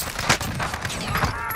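Video game gunfire in Call of Duty Warzone during a duos match: a quick burst of several sharp shots, loud and close, with a brief clatter of action around it and no clear talk.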